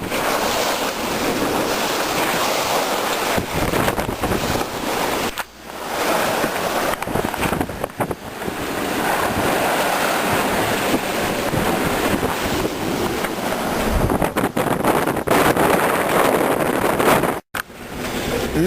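Strong east trade wind roars across the microphone with waves crashing around a sailboat on the open sea between Cape Verde and the Canaries, a loud continuous rush with gusts and brief dropouts.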